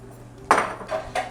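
A spoon clanks against a metal pot as basil is stirred into a Genoese sauce, giving one sharp knock followed by two softer scraping clinks, close and clear.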